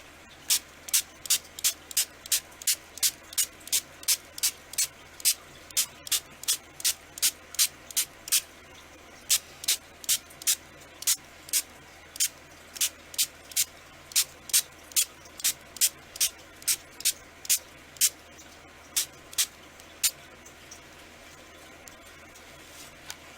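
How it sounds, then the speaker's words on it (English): Spray bottle misting water and binder onto an altered book, a long series of short sharp hissing pumps in an even rhythm, close and distinct with a brief pause midway, no voices. "now I'm just going to mist this on"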